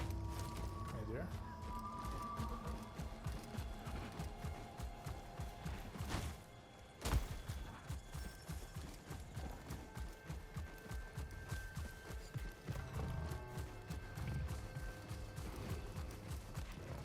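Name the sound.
horse hooves clip-clopping, from a video game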